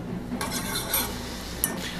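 A lemon juice and cornstarch mixture being stirred in a pan, with a quiet continuous sizzle and light utensil scrapes against the metal, close by.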